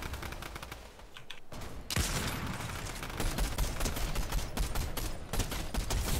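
Rapid automatic gunfire in the Fortnite video game, dense bursts of shots firing almost continuously and growing louder after a brief lull, with no talking.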